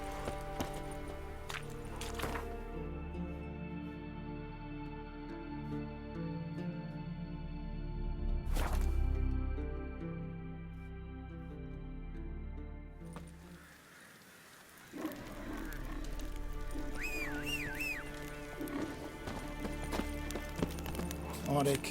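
Hooves of a galloping horse in The Witcher 3, a rapid clip-clop rhythm under game music, broken by a brief lull and then resuming, with voices speaking at times.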